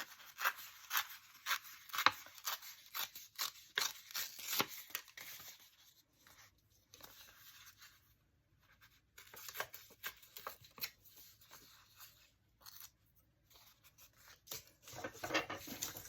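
Paper being torn by hand for a mixed media art project on a desk, close crisp rips and rustles in irregular bursts with quiet gaps, faint and alone.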